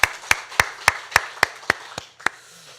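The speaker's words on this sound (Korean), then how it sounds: "우리 다시 한 번 더 하나님께 영광의 박수 올려드리겠습니다" Church congregation applauding in a service: about nine sharp, evenly spaced claps that ring out in a steady rhythm, then fade.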